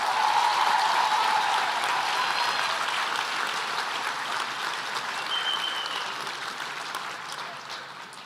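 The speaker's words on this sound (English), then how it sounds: "please give everybody a big round of applause" A graduation ceremony audience gives a sustained round of applause for the new nursing graduates, steady dense clapping from a large hall crowd that slowly thins out toward the end.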